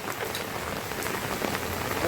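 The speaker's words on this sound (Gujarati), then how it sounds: "વરસાદ તો આવે જ છે" Steady rain falls on a surface near a parked car during a washing chore, a continuous dense patter of drops with no voices.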